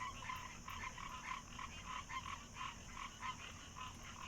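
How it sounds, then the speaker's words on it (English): A common rain frog croaks in a quiet, steady series of short pulsed calls repeating at a regular rhythm, faint and alone. "Like the common rain frog."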